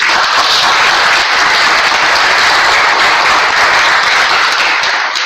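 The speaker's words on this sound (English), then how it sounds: "can we definitely hear a better round of applause for the tips that all three of them gave" A roomful of people at a community meeting gives a sustained, loud round of applause, an even wash of clapping that holds steady and tapers slightly at the end.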